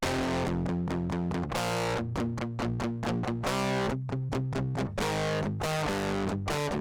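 Fuzz effect giving a degraded, buzzy tone to a steady riff of choppy repeated chords and longer held notes, loud and saturated throughout with no voices.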